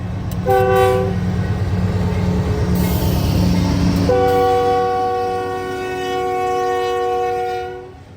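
A loud, harsh Union Pacific or BNSF freight locomotive horn sounds twice, a short blast then a longer one, over the heavy rumble of a passing freight train.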